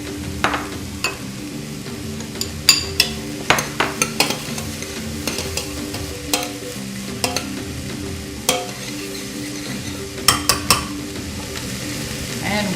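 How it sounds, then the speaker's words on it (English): Vegetables sauté with a splash of water in a pan, giving a steady low sizzle and hiss under repeated sharp clinks and scrapes of a utensil stirring against the pan. "water to create just a little bit of steam so we can saute our veggies"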